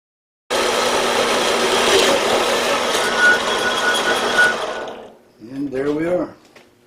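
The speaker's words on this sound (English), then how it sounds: "this project, instead of starting on the bandsaw, is going to end on the bandsaw" A bandsaw cuts a small metal mini vise part in half: a loud, steady, broadband whirring rasp runs for about four and a half seconds, then stops, and someone speaks briefly.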